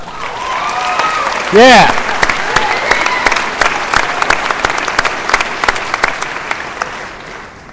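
A commencement crowd of graduating students claps in a dense, loud burst of applause, with a short shout and scattered cheers rising above the steady clatter of hands.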